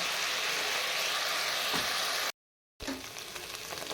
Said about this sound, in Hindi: ध्यान से जो छींटे उठती हैं उससे बचना लाजमी है और इसको अच्छी तरह से भून लेंगे।